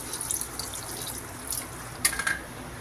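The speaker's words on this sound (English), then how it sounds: "Add half glass of water." Water pouring into a cooking pot of prawn biryani, a short soft splashing stream with a brief louder burst near the end, heard alone.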